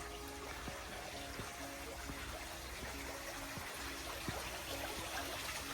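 A steady, even rush of water running out of a large globe fountain, continuous and moderately close, with faint periodic ticks underneath and no talking.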